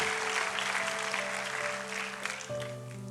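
Congregation clapping together during an Indonesian church worship service, a steady wash of applause over sustained organ or keyboard tones, the music shifting near the end.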